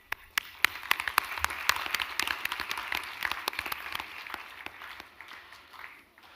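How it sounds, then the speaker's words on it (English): Steady, dense applause from a large audience at a 2022 graduation convocation ceremony for a school of commerce, with sharp individual claps over a continuous roar that eases slightly toward the end. "big applause for your convocation day"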